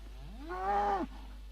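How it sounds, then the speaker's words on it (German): A single cow moos on a state farm, one of a herd flown in from Kenya, giving a drawn-out rising low call, moderately near, over a steady background hum. "Die Kühe hier wurden von Kenia eingeflogen."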